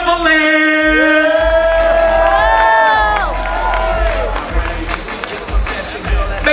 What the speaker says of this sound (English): Make some noise one time for Cecilia